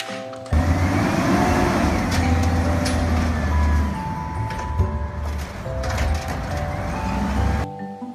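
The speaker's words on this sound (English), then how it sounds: "Garbage truck." Garbage truck engine running close by with a heavy, steady rumble, overlaid by whirring and mechanical clatter and occasional sharp clanks. It starts suddenly and stops abruptly near the end.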